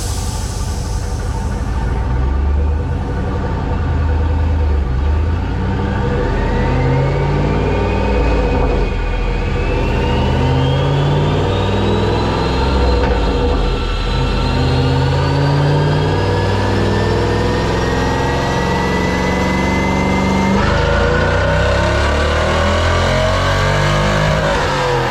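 A 1999 Chevrolet Corvette with a six-speed manual roars through a dyno pull, its engine note climbing steadily in pitch for a long, loud, close sweep before dropping back at the end, with no talking.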